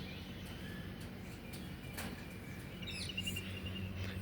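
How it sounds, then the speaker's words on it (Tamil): Household birds arrive to feed at a rooftop garden, giving a few faint, scattered chirps over steady outdoor background noise. "எங்கள் வீட்டு பறவைகள்லாம் வந்துட்டாங்க சாப்பிட."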